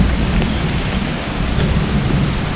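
A thunderstorm at a campsite: heavy rain pours loudly and steadily over a deep, continuous thunder rumble, close and enveloping, with no voices.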